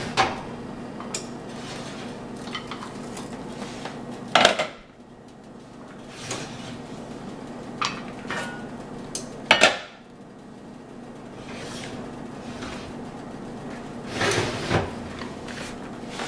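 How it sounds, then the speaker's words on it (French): While bread is being made, lids come off pots with sharp metallic clanks, and several loud clatters and scattered clinks ring out in a kitchen with a steady background hum. "j'enlève le couvercle des casseroles."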